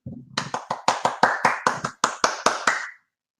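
Hands clap about a dozen times in a quick, steady rhythm, sharp and close, then stop.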